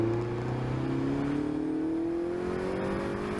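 A car running hot laps at Adams Motorsports Park, engine note climbing steadily under sustained acceleration, loud and continuous with road and wind roar filling the background.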